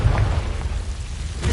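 A Confringo blasting spell explodes in Hogwarts Legacy on PS5, a heavy low boom that rumbles through most of the moment, loud and close, with a second swell at the end.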